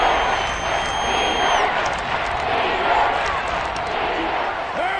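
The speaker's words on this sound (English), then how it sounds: "The crowd here in the Dome making things difficult." Steady, dense crowd roar fills an indoor dome during a football game, a continuous loud wash of voices with a commentator's voice layered over it.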